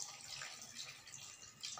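Water being poured into a cooking pot while making a country chicken gravy, heard as a faint, brief trickling splash with fluctuating gurgles.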